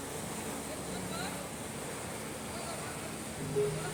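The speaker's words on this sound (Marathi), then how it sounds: "बोटीच्या मागच्या बाजूतून हे फेसाळणारं पाणी हे असं दिसत होतं." Foaming water churns in a boat's wake on a Swiss lake, a steady broadband rush mixed with wind buffeting the microphone.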